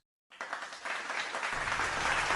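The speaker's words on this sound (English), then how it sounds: "Applause began slowly, then swelled until it filled the gallery." Applause from a crowd in a gallery begins abruptly after a brief silence and swells steadily into dense, continuous clapping that grows louder to the end.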